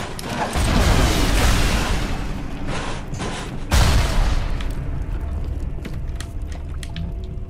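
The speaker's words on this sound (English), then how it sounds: "Heat-seeking RPG!" A heat-seeking RPG rocket in Bioshock Remastered launches with a loud boom, then a second heavy blast strikes a few seconds later and fades into a rumbling tail.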